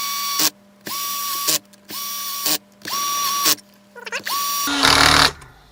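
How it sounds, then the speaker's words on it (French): Ratchet tightening screws on a Peugeot BE4R gearbox housing, a series of about six buzzing ratchet bursts with short pauses between, fairly close and loud, ending in a harsher noisy burst. "Donc on remet les vis du carter."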